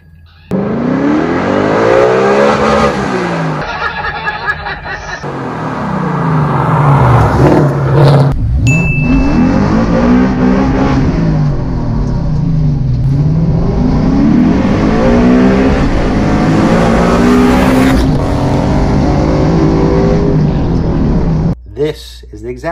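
A Coyote V8-swapped New Edge Mustang revs hard through several gear pulls with rising and dropping engine pitch, loud and close, with voices talking over it.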